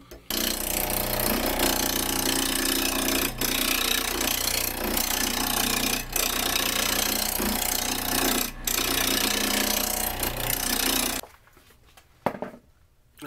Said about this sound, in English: What I'm aiming for here is these ridges that I'm making.